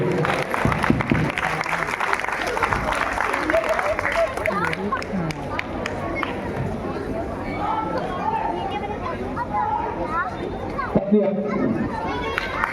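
A Ramleela stage audience claps for a child actor, the applause rising and thinning amid crowd chatter and a voice talking over the clapping.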